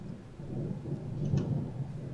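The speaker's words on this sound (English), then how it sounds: "Is that thunder?" Distant thunder rumbles low and soft in the video game Space Engineers, a faint steady roll with a slight swell near the end, heard alone without talking.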